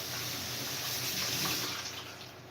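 Tap water runs steadily into a sink while a glass is washed, a close, continuous broadband splash that swells slightly midway and eases toward the end, with no voices.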